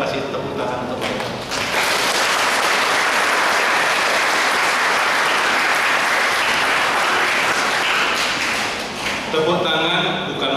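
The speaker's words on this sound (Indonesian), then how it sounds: "Saya kira baik kalau kasih tepuk tangan untuk mereka." Congregation applauding inside a church at the closing of the Marian month Mass, sustained dense clapping for about eight seconds, loud and even, with voices at the start and end.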